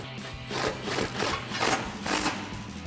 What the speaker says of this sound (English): And now we'll tighten it down with our 13mm socket.